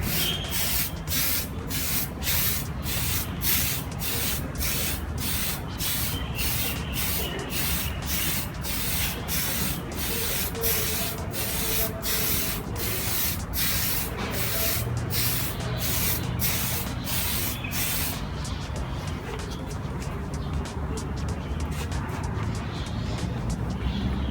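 Spray paint hissing from a can onto a Nerf Magpul PDR blaster in a long series of short, even bursts, close and loud, ending in one longer continuous spray.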